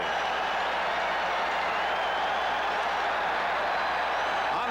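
A loud, steady roar from a packed stadium crowd at a 1985 Detroit Lions football game against the San Francisco 49ers, fans doing the wave, with continuous crowd noise filling the space and no distinct breaks.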